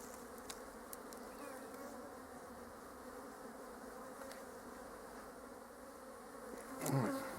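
Honey bees buzz around an opened hive box, a faint continuous droning swarm with a few individual bees passing closer and a louder rustle near the end.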